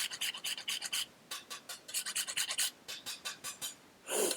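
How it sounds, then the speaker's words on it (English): Fresh whole nutmeg rasped over a grater in a home kitchen while making pumpkin cheesecake bars, a quick run of short, crisp scraping strokes in steady rhythm, close and clear with no talking. "I love using fresh nutmeg, grating it myself"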